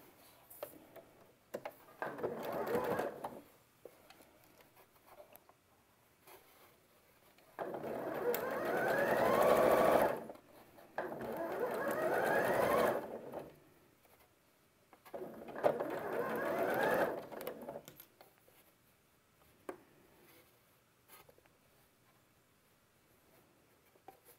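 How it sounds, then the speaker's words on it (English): A sewing machine runs in several short stitching bursts while tacking down a curved bay leaf quilt block, each run clear and close with quiet pauses between. "bring it to the machine. Tack down a few stitches"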